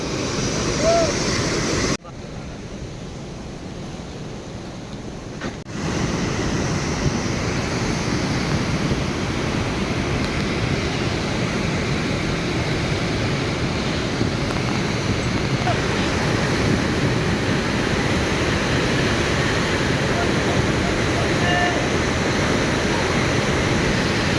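Floodwater rushes heavily after rain near a village in Nalgonda district, a loud, continuous roaring wash that holds steady throughout, briefly muffled near the start.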